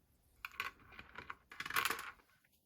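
Metal washers clinking as they are set onto a Victron Lynx bus bar, a quick series of light, close metallic taps and rattles in two short bursts.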